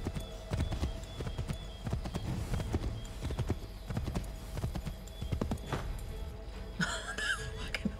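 Horse hooves clip-clop steadily in the video game Assassin's Creed 3, a close, rhythmic trot running throughout with a brief whinny near the end.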